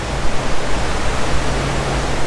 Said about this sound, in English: And that's our wake.